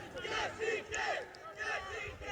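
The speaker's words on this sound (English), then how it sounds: "And the Patriots sideline cheering," Football team sideline cheering at a game, loud crowd-like shouting in several surging waves, distant and reverberant, mixed with voices.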